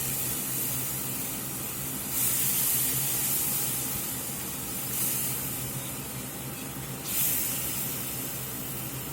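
Turkey stock poured into a hot roux for smothered turkey wings sets off a steady, close hiss that swells briefly three times as more liquid hits the pan.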